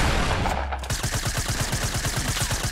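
Automatic gunfire in the Fortnite video game: a fast, steady burst of shots keeps going for about two seconds after a brief lead-in.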